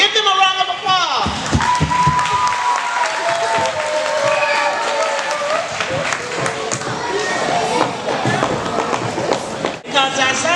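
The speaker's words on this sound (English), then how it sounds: "Give them a round of applause." An audience at a recreation football and cheerleader banquet applauds, a sustained crowd clapping with cheering and voices mixed in, loud and continuous across the whole stretch.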